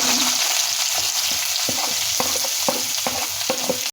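Bitter gourd fries in hot oil with a steady, loud sizzle, punctuated by repeated scraping stirs of a utensil at a quick irregular rhythm, close by and without talk.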